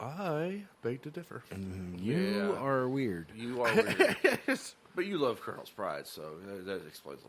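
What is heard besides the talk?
No everyday noise stands out behind the speech.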